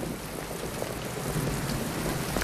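Steady rain falls in a film scene, a dense, even hiss of drops on surfaces with a low rumble beneath, continuous and fairly close for the whole stretch with no voices.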